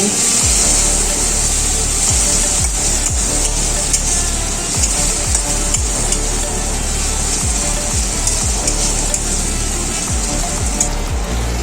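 A spoon stirs spice paste for butter chicken balls in a pot, making loud, close scraping strokes and soft knocks in a steady, repeating rhythm, with no talking.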